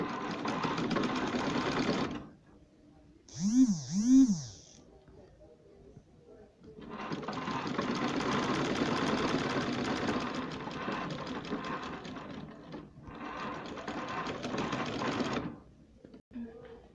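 A sewing machine stitching a waist dart runs in several bursts: a short run, a pause with a couple of brief whirring tones, then a long steady stitching run, a brief stop and another run before it falls quiet.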